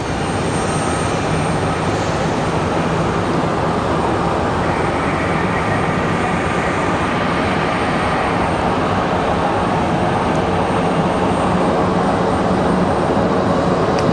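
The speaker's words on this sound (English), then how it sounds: "This looks like another American Airlines 737-800." American Airlines Boeing 737-800 coming in to land at Raleigh-Durham in windy conditions, a steady, loud broadband jet roar with heavy wind noise that holds throughout without a break.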